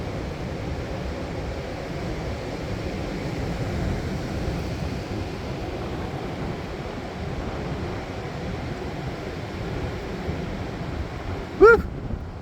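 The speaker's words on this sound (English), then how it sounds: "Wow, that's some wind." Strong spring wind roars steadily outdoors in West Virginia, a continuous broadband rush buffeting the microphone, with a brief sharp knock near the end.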